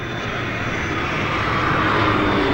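An airplane comes in to land, its engines a steady, broad roar that swells slightly throughout, with no voices.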